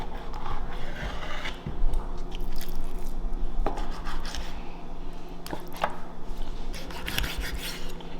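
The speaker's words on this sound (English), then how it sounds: "So now I'm going to go through and actually cut my fillets." A knife slices raw salmon into fillets, making a series of close, uneven cutting and scraping strokes with occasional light clinks of utensils against a pan or board.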